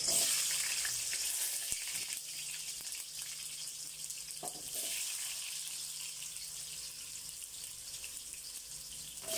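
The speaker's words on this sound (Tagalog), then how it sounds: "Ipiprito ko muna yung carrots at patatas." Carrots frying in cooking oil in a pan for beef calderita, a steady bright hissing sizzle close by, with a few faint clunks and no talking.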